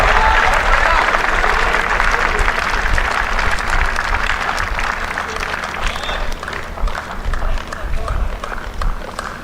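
Crowd at a WTA 125 women's tennis match in Mumbai applauding and cheering a winning shot, loud and sustained clapping that slowly thins and tapers off, with a commentator talking over it.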